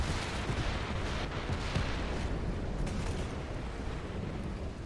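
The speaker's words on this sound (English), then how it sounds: "And he dropped an artillery on me." An artillery strike in the tank game War Thunder lands as a dense, continuous roar of rumbling blasts, loud and close, holding steady for the whole stretch with no talk over it.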